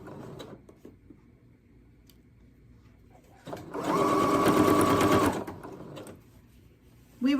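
A sewing machine runs in a steady buzzing burst of about two seconds, loud and close, with quiet handling before and after and a brief voice at the very end.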